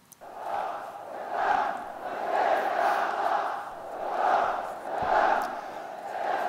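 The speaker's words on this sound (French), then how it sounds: "une autre foule des plus impressionnantes qui a entamé des slogans hostiles à Israël" A huge protest crowd in Yemen chanting slogans hostile to Israel, voices rising and falling in a slow repeating rhythm of about four loud surges, distant and massed with no single voice standing out.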